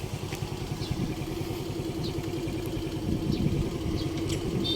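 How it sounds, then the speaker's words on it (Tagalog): Motorcycle engine running steadily while riding, a loud, continuous low rumble with clattering texture and slight swells in level throughout, no talking. "So ako ay nagmomotor na naman"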